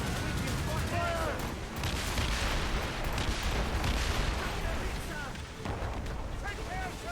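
Ship cannon fire in Assassin's Creed Rogue, a naval battle against a man-of-war: dense, rumbling volleys and booms roll continuously under a busy battle mix, with shouted voices over the top.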